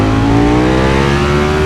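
A Ducati Panigale V4 Speciale motorcycle, 226 hp, pulls hard under acceleration, its loud close engine note a dense steady harmonic drone rising gradually in pitch throughout.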